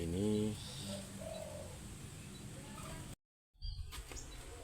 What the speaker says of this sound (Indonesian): ini pikat tekukur saya